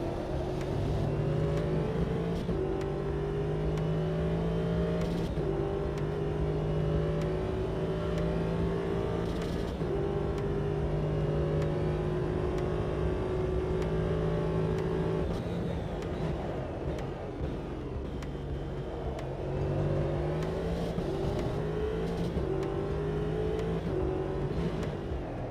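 Racing cars leave the pit lane on cold tyres in the Automobilista 2 sim, with engines droning and revving through rising gear shifts. Several cars are heard close together, and the engine note dips and climbs again partway through.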